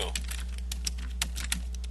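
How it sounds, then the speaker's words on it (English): A computer keyboard clatters as someone types, with a quick, uneven series of sharp key clicks over a low steady hum, close and without talk. "I'll type in Project 2"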